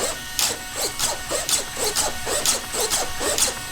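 Savox steering servos with titanium gears snap back and forth on a Traxxas E-Revo 2.0 RC truck, giving about nine quick, sharp whirring bursts in a regular rhythm, close and clear.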